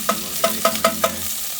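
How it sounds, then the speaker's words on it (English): Bacon fries in a pot over a hot, fierce fire with a steady loud sizzle and five quick, evenly spaced scraping stirs. "Just this first stage, frying off the bacon, is probably the main tricky part"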